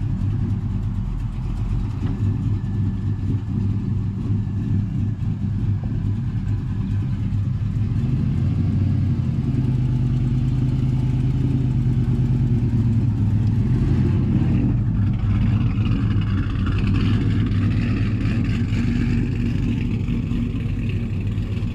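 A pickup truck, one of two short-bed trucks being loaded, creeps onto a trailer ramp with a steady low engine rumble that rises slightly as it pulls up, continuous and fairly close throughout.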